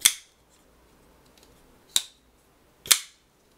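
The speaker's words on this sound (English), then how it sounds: "this is a very nice clack and a nice thud for a small knife" Shirogorov Monkey Edge Neon Frag pocketknife blade snapping shut: three sharp, close clacks with a short thud, spaced about a second apart against a quiet background.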